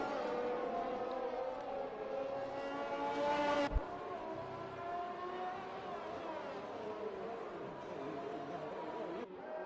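Red Bull Formula 1 car in the F1 2021 video game at Imola, its engine note droning steadily as it heads out through turns 1 and 2 on a hot lap, with rising and falling pitch and a brief sharp shift near the middle.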